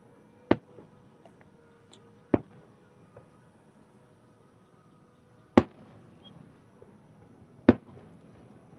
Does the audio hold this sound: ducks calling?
no